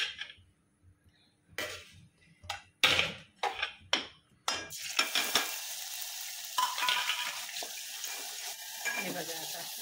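Chili paste dropped into a little hot oil for besan vadi sizzles loudly and steadily after a few sharp clinks and stirring knocks from the pan.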